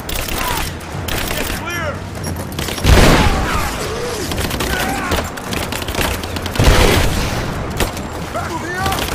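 Rapid gunfire bursts and booming shots from the video game Rise of the Tomb Raider, loud and dense throughout with heavier impacts near the start and again later, mixed with shouted voices and combat clatter.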